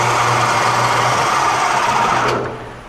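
A lathe takes a light smoothing cut on an aluminum AN fitting, a loud steady whine with a low hum beneath that fades out as the cut ends.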